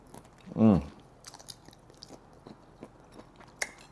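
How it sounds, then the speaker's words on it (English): A single crunchy bite into shrimp, loud and close, followed by soft, faint chewing over the next few seconds with no talking. "Take a bite of this shrimp."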